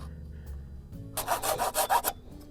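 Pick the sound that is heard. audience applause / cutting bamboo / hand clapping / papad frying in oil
cutting bamboo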